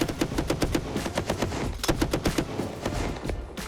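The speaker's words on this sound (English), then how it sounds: "The Dushka performs with deadly efficiency and becomes the standard heavy machine gun for the" A Soviet DShK (Dushka) heavy machine gun fires sustained rapid bursts of loud, close, evenly spaced shots with a short break partway through.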